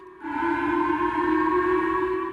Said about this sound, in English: Residents of Japan's Okinawa prefecture woke up to the sound of air raid sirens on Tuesday.